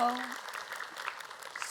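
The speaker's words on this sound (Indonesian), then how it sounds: "Tepuk tangan dulu dong." Studio audience at a televised religious talk show clapping in a brief, dense burst of applause at moderate distance, with a voice briefly audible at the start.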